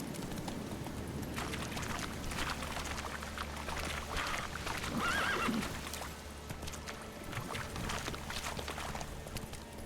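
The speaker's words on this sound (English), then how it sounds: "El caballo." A horse in The Witcher 3 video game whinnies once, clearly and fairly close, over a steady bed of ambient game noise and hoof clatter.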